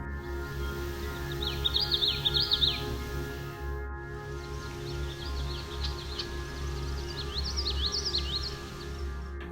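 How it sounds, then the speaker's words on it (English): A common yellowthroat at Otter Lake sings two short bursts of rapid, repeated high warbling phrases, fairly distant, over a constant low hum of background noise. "We also heard the common yellowthroat song, which is often described as sounding like witchety,"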